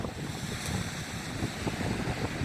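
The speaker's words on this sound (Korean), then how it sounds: "강풍 속에서 바닷가에서 촬영을 들어가 봅니다" Strong wind and crashing waves at the seaside on a cold, blustery day form a steady, loud roar with wind buffeting the microphone throughout.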